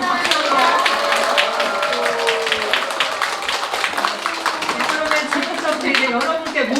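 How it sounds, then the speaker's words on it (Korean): An audience of knitting-party guests claps together in sustained, dense applause, with voices chattering and a speaker's voice running over the clapping throughout. "네, 감사의 마음으로 박수로."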